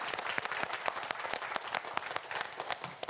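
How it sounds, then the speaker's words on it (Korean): A studio audience at a televised student quiz show breaks into sustained, dense applause, many hands clapping together at close range for about three seconds with no voices over it. "우리 네 학생을 위해서 다시 한번 응원의 박수 보내주시기 바랍니다."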